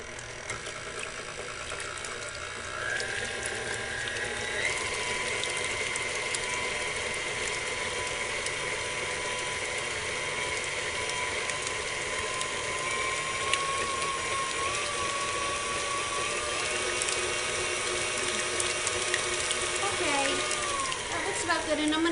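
Electric mixer whirring steadily on low for a long stretch while beating cream cheese for a gluten-free pie, a close, even mechanical drone that barely changes.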